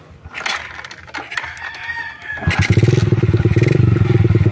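Kawasaki Aura Classic 110 motorcycle engine starting and settling into a steady, close, loud single-cylinder putter after a few seconds of handling sounds.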